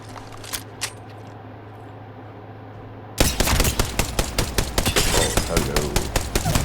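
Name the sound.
Rampage LMG firing in Apex Legends (video game)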